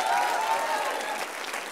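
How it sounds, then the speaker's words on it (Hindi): Loud, steady applause from a stage-show audience, cheering on the children of a singer's family, a dense continuous wash of clapping with no talk over it. "एक बार इन बच्चों के लिए जोरदार तालियां बजाइए"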